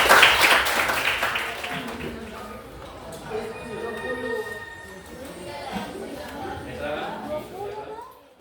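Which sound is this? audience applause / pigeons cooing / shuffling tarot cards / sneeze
audience applause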